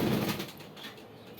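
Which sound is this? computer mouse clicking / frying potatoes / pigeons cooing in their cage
pigeons cooing in their cage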